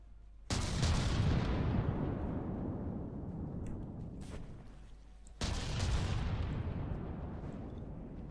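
A tank in a video game fires shells twice, each a sharp, loud blast followed by a long rumbling decay, the second shot coming about five seconds after the first.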